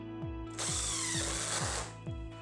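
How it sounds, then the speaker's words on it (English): Power drill driving screws into the framing of a dog door tunnel, a steady high whine running through the middle with repeated short motor pulses starting and stopping, close and loud. "you can start pre-drilling them, and also you can start the screws for easier installation"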